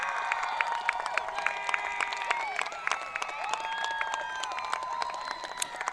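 An audience at a high school graduation ceremony in a large venue claps steadily, a dense, sustained patter of applause with scattered whistles and cheers.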